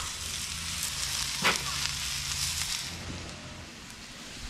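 Onions and mushrooms sizzle on a hot Blackstone griddle outdoors, a steady, dense frying hiss that runs the whole time, with one brief clink of a spatula; close, continuous and unaccompanied by speech.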